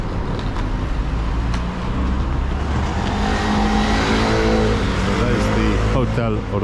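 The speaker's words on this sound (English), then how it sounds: "There's the bus 36 going to Castello Miramare" City bus number 36 passing on a street in Trieste, a loud engine rumble swelling and fading past up close, with someone talking over the traffic.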